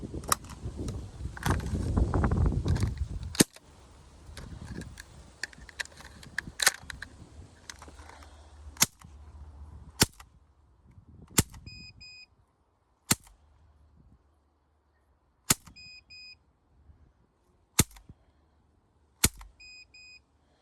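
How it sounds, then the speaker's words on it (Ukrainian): A Crosman C11 budget plastic air pistol fires a series of sharp, isolated shots spaced a second or two apart, each a brief crack against a quiet background, with louder handling clatter in the first few seconds. "Щось воно трошки криво, шановні, стріляє, ну, стріляє"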